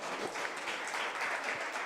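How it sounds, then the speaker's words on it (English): Applause from an audience at a live hackathon event in Vizag, a brief steady wash of clapping filling the room at moderate volume with no voices over it. "Guys, a huge round of applause for our team."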